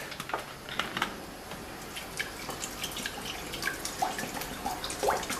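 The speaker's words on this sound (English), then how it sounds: "and add some warm water." Warm water trickles and drips into a glass bowl holding a packet of Citrizyme, soft uneven splashes and droplets fairly close but quiet, no speech.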